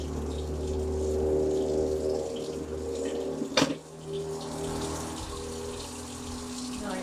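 A kitchen sink tap runs water steadily as hands are rinsed, a close continuous rushing with a brief splash partway through.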